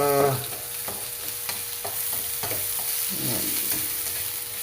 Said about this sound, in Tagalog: Medyo lutuin natin yung bawang at saka sibuyas, mga boss, mga ma'am, para lumabas yung aroma at tamis.